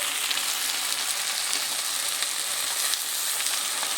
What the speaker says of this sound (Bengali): জিরে বাটা দিয়ে আমি আবারও কষিয়ে নেব।